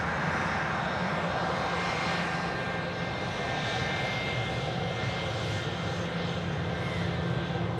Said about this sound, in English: the Cebu Pacific A330-900 Neo from Manila is on finals